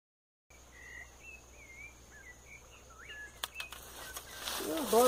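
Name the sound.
song of a sabiá (thrush)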